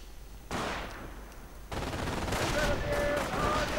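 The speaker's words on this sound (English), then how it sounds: "MG opening up." Machine gun fire in a war strategy game: bursts of rapid, crackling automatic shots, loud and continuous with a brief lull, layered with other battlefield gunfire and faint high whistles.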